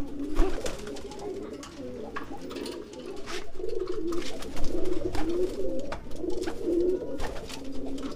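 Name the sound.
domestic racing pigeon cooing while courting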